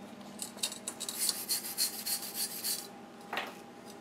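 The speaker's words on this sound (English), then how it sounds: "6013, the flux chips off a whole lot easier." Flux slag is chipped off a 6013 arc-weld bead with a run of quiet, crisp scraping and tapping strokes. A short pause comes before a final sharper scrape.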